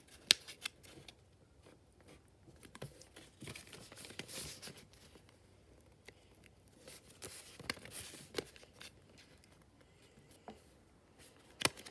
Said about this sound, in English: line it up and fold it diagonally in half like this